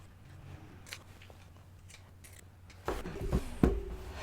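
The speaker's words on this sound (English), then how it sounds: "you can just snip into it with scissors if you don't have pinking shears" Pinking shears cutting into fabric around the curves of a scrub cap, starting with faint ticks over quiet hum and ending in a few louder, crisp crunching snips near the close.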